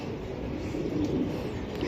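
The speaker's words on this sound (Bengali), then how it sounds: "যাদের ভালো লাগবে আপনারা নিবেন কবুতরগুলা আমি দেখাইতেছি" Racing pigeons coo softly in a loft, a steady low murmur of overlapping calls with faint rustling throughout, no voices.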